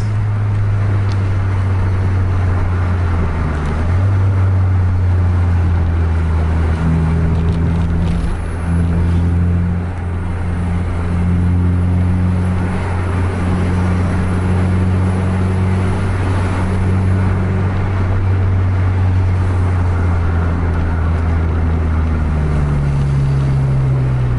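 A car races at full throttle, with Mercedes-Benz cars mentioned as rivals, its engine a loud, sustained drone whose pitch rises and shifts with gear changes over the whole stretch.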